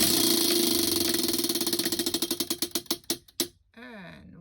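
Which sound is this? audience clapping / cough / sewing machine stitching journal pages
sewing machine stitching journal pages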